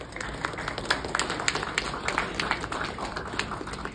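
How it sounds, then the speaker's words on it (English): Crowd applauding at the opening of the IBM Power10 launch event, a steady spread of clapping from a fairly distant audience in a large hall, with faint voices underneath. "Can we begin this event with a huge round of applause,"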